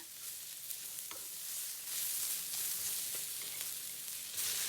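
Black pepper, hot chilies and green onions stir-fried in a wok for salt and pepper shrimp, giving a steady, close sizzle with occasional scraping stirs, no voices.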